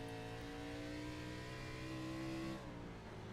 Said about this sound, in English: You can hear these machines backfiring.